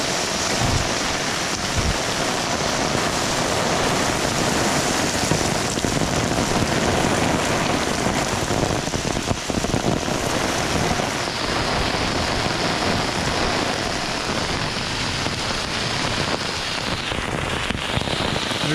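Heavy rain pours in Guadalupe, Colombia, during a lightning storm, a dense, unbroken roar of drops hitting surfaces close by, loud and steady from start to finish with no voices.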